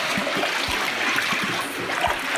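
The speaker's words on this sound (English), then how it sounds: "Now we're draining the dirty water from the tank." Dirty water drains from a coffee fermentation tank at a farm, a continuous rushing, gurgling flow filling the whole moment at steady loudness.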